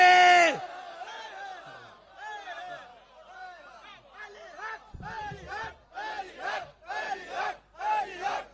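A crowd at a religious gathering in Sahiwal chants a slogan in rhythmic collective shouts, rising in regular bursts after a lone voice leads, loud and echoing.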